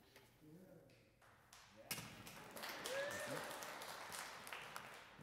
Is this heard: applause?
yes